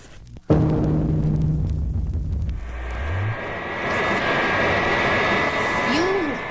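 An airplane sound effect on a Wonder Woman record: an abrupt loud onset settles into a steady engine roar with a rising whine, continuing for several seconds under a brief voice.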